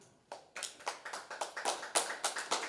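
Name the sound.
congregation clapping hands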